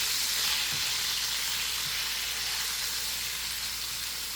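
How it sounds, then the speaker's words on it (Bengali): An egg fries in a pan with salt, giving a steady, close, even sizzle that hisses on without a break or any voices. "আগে শুধু লবণের ভিতরে ডিমটাকে একটু ভেজে নিব"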